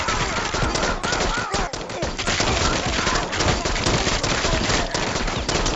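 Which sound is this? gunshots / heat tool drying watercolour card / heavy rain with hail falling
gunshots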